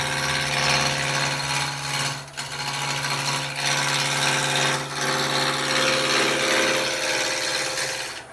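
A roughing gouge cuts a long spindle of wood spinning on a lathe, a loud continuous rough chattering roar with a steady motor hum beneath and a couple of brief dips as the tool eases off.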